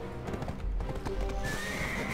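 In the video game Black Desert Online, a horse neighs loudly while its hooves clip-clop, the whinny rising into a sustained high cry near the end.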